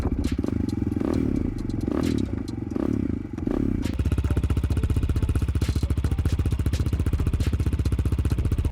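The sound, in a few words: dirt bike engine running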